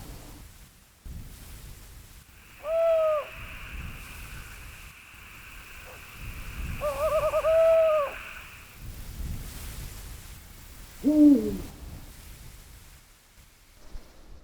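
A Eurasian eagle-owl hoots at night in its habitat of plains and rocky cliffs, three deep separate calls spaced several seconds apart over a faint steady hiss.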